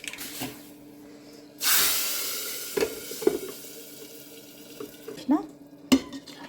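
Garlic tempering dropped into hot oil bursts into a sudden loud sizzle that slowly fades, followed by scattered utensil clinks and brief faint voice sounds.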